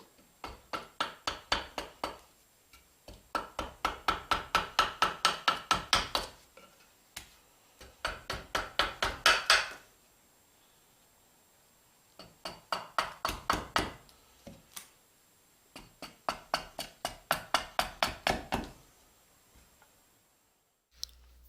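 Rhythmic bursts of sharp axe strikes chop at wood while a spoon is carved, coming in clusters of rapid knocks separated by brief pauses, fairly close and with no talking.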